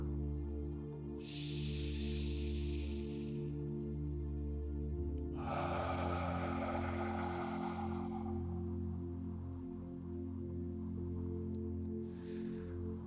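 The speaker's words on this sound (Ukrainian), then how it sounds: "Зробіть повільний глибокий вдих і видих." A slow, deep breath drawn in and let out during a guided relaxation exercise, two soft hissing airflows close by over a steady low background hum, with a fainter third breath near the end.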